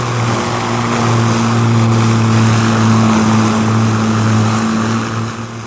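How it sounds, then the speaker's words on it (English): The port propeller engines of an airliner run at full power with a loud, continuous droning roar and steady humming tones, close and unbroken, with no voices. "Meanwhile, the port engines are running at full power."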